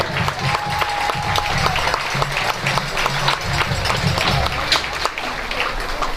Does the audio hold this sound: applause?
yes